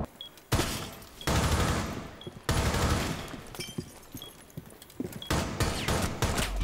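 Bursts of rapid automatic gunfire from the video game Rainbow Six Siege come in several loud, dense volleys, separated by short quieter gaps that hold scattered single shots.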